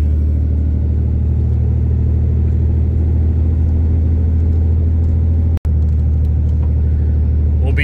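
Ram pickup truck towing a trailer while climbing, a steady loud low engine drone with road rumble throughout and one sharp momentary dropout near the end.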